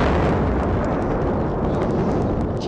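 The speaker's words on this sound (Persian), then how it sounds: "انفجارها همچنان ادامه دارند." Explosions during an armed attack on a traffic management building, heard as a dense, continuous rumbling roar of blasts and booming without a break, loud and steady throughout with no voices.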